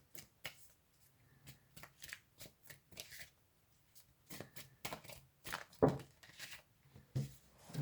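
Tarot cards are shuffled by hand, with bursts of quick riffling flutters and soft snaps in an irregular rhythm, close and fairly quiet.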